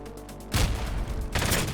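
Gunfire in the tactical shooter game CROWZ during a squad operation training match, two heavy bursts of rapid shots, loud and close, separated by a brief lull.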